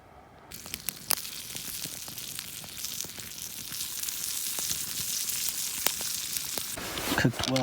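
Meat sizzling as it cooks over an improvised outdoor fire in a mountain survival setting, a steady broadband frying hiss running throughout with scattered pops and crackles, growing slightly louder toward the end.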